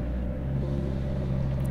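A Vauxhall Zafira's diesel engine hums steadily at raised revs during a forced DPF regeneration, a close, even low drone with a slight climb in pitch.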